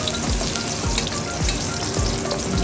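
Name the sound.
sautéing onion with garlic in a pan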